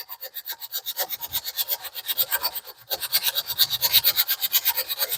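A guitar neck is sanded with 80 grit sandpaper, a close, rhythmic rasping of quick back-and-forth strokes on wood, with a short pause partway through.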